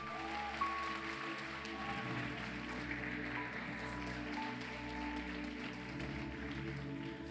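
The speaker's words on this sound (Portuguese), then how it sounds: "Para aplaudir o Senhor, querido." Church congregation applauding together in a sustained, steady wash of clapping at moderate distance, mixed with a low hum and faint background voices throughout.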